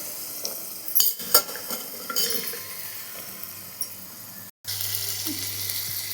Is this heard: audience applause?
no